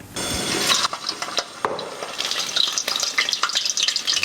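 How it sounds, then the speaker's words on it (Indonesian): Batter-coated shrimp dropped into hot oil and frying, a steady crackling sizzle with sharp pops and spatters, close and fairly loud, with no talking. "kita celupkan udang, terus langsung aja goreng di minyak yang panas"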